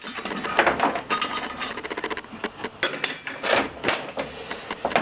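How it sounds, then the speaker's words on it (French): A screw clamp is loosened on a Land Rover Freelander cylinder head while a valve is being removed, giving a close, busy run of rapid creaky clicks and scraping rattles that carries on for several seconds. "On desserre le serre-joint"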